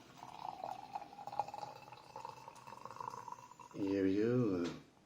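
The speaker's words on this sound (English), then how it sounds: "add some boiling water" Boiling water is poured into a bain-marie used to warm sake: a soft, steady trickle runs quietly for several seconds, then a close voice speaks over the end.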